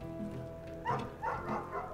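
A dog in the video game Night in the Woods gives a few short barks over a low ambient game hum, the yips spaced out and moderately close, with no talking.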